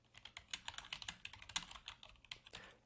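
Quick, light keystrokes clatter on a computer keyboard in an uneven burst of about twenty taps, close and fairly quiet, with no voices.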